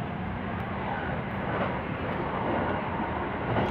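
Airplanes at Kansai Airport, including FedEx cargo jets, produce a steady, loud, broadband engine roar that holds evenly throughout with no talking.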